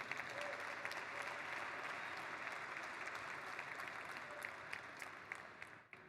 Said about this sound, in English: So maybe we can give a round of applause just to the MultiversX ecosystem.